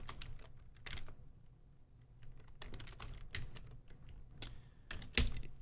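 Quick, light clatter of a computer keyboard being typed on at a desk, steady irregular keystrokes close by and fairly quiet, with a sharper key hit near the end.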